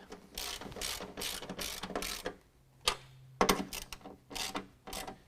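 Ratchet wrench tightening nuts onto running board bracket studs on a 2019 Ram 1500, several bursts of rapid close clicking with short pauses between, loud and alone.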